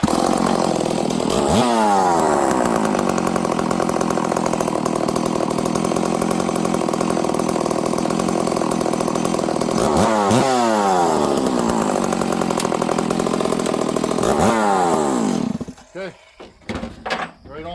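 A Stihl 038 Magnum chainsaw, just after a clutch repair, runs close and loud with a steady drone, blipped up and down a few times, then cuts out near the end, leaving scattered handling clatter.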